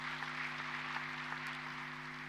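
An audience applauds the President at an international conference opening in Dar es Salaam, a steady, dense wash of clapping from many hands that stays even in level throughout.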